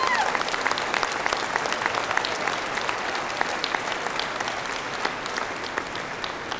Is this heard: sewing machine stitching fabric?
no